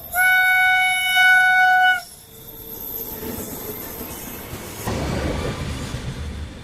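A train on a railway line: a loud sustained horn blast, then a steady rumbling roll of wheels with hiss and occasional squeal that grows louder toward the end.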